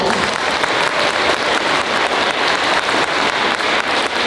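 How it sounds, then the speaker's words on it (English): An audience at a school United Nations Day event gives loud, sustained applause, dense even clapping from many hands continuing without pause. "Let's give her another big round of applause."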